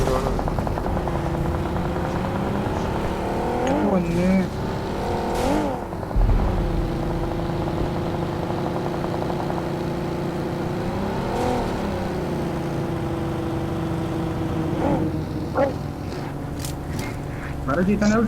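A vehicle engine in the mobile battle royale game BGMI drones and revs steadily under loud, near-continuous speech, with a few sharp game bursts.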